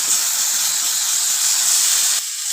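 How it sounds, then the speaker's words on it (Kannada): Tomatoes and green chillies frying in oil for a Kannada chutney, a steady close hiss and sizzle with a bright steamy edge that holds evenly and then drops a little near the end, with no talk. "ಮೆಣಸಿನ್ಕಾಯಿ ಜೊತೆಗೆ ನಾನು ಟೊಮೊಟೊ ಕೂಡ ಇವಾಗ ಫ್ರೈ ಮಾಡ್ಕೊತೀನಿ"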